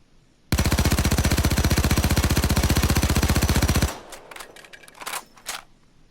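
Rapid sustained automatic gunfire from an FN P90 (Kobus 90) in Payday 2, a loud unbroken burst of about three seconds, then a few scattered clinks and thuds.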